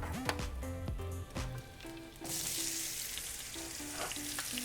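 Onions frying and caramelizing in a pan over medium-low heat, a close, steady sizzle that grows brighter and fuller partway through, with a few low thuds and stirring scrapes early on and no talk.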